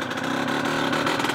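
A 1997 Honda 125cr motorcycle engine ticks over at a steady idle after carburettor tuning, a close, even mechanical putter with a faint rhythmic pulse throughout.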